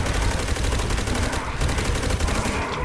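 Dense, continuous gunfire from a Call of Duty Black Ops zombie mode match, rapid overlapping shots and bursts filling the whole stretch at steady loudness with no talk.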